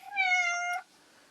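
A single clear, drawn-out meow from a cat nearby, followed by quiet.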